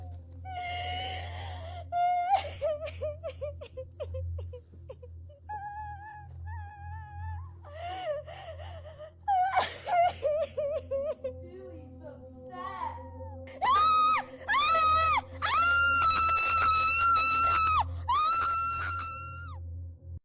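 A woman cries and screams in distress, with long wailing, sobbing cries that rise into sustained high-pitched shrieks, loud and close, broken by short gasping pauses.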